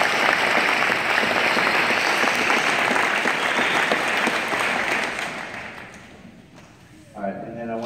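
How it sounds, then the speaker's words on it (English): A crowd gives a round of applause at a state championship basketball celebration, dense sustained clapping that thins out toward the end, with a voice starting up as it fades. "Let's give them a round of applause."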